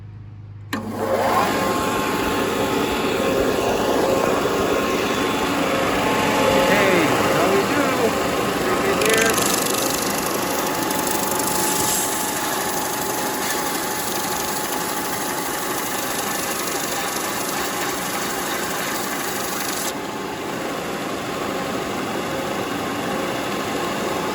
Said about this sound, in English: so now I'm gonna take it to a belt sander